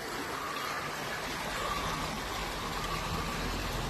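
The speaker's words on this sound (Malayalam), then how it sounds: "വെള്ളത്തിൻ്റെ ശബ്ദം കേൾക്കാൻ കഴിയുന്നുണ്ടോ?" A stream near Illikkal Kallu in Kerala rushes steadily with a broad, constant watery hiss that holds at the same loudness throughout, with no voices.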